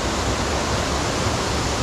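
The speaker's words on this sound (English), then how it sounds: "look to the waterfall where it's coming down from underneath the road." A waterfall flows out from underneath a road, giving a steady, loud, broadband rush of falling water with no pauses and no voices.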